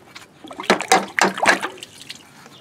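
Copper pipe and wire lowered into a bucket of fresh water, giving several close splashes and sloshes in quick succession, then a softer trickle and drip as the water settles.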